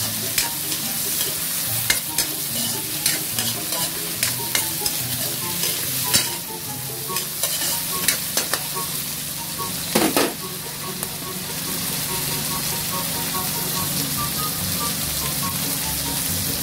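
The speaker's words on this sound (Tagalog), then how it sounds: "Siyempre, haluin natin ang bagya." Small shrimps guisado are stirred in a frying pan, a continuous loud sizzle with repeated scraping and clinks of the spatula against the pan at an irregular pace, alone without voices.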